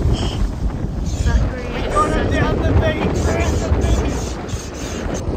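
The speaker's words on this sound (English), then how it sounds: "Very, very windy down at Tahuna Beach." Loud wind buffets the microphone in a constant roar at Tahuna Beach, with a voice speaking underneath the gusts.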